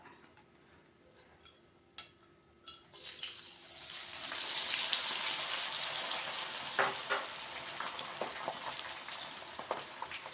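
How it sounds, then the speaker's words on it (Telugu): Bitter gourd goes into a hot pan for bitter gourd fried rice, and after a few quiet clicks it bursts into a loud, steady sizzle that swells and holds, dotted with small pops and crackles. "ఇదిగో కాకరకాయ వేయించుకుంటా"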